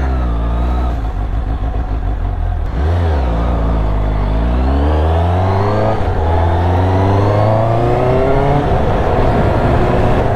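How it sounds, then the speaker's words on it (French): Four-cylinder A2-class motorcycle engine revving loudly and close, climbing repeatedly in pitch through rising sweeps with brief drops between pulls, no voices. "J'aime bien le 4 cylindres. C'est vraiment un très bon moteur."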